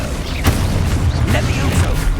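Confringo spell explosions in Hogwarts Legacy combat: a sharp blast near half a second over continuous rumbling booms and clattering battle effects, loud and dense throughout.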